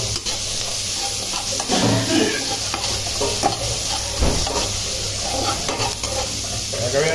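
Fish frying in a pan in a home kitchen for sarsyado: a steady, close, loud sizzle and crackle that runs throughout, with occasional stirring and scraping noises and no talk over it.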